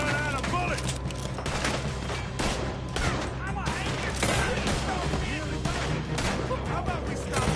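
Rapid gunfire crackles through a video game shootout, dense bursts running the whole time with voices talking over the din.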